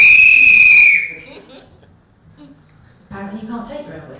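A comedian on stage blows a whistle in a single loud, shrill blast of about a second. A quiet pause follows, then voices from the room.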